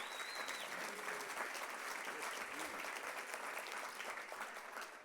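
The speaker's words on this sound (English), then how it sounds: "I'm going to pause a few more times for that same type of applause here." A banquet audience applauds a college football wide receiver, a steady wash of clapping heard from a distance at low level throughout.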